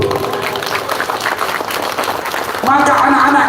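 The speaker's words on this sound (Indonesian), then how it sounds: "Tepuk tangan untuk guru." Crowd clapping for teachers at a school Maulid Nabi celebration, steady mid-level applause with talk over it and a loud voice entering near the end.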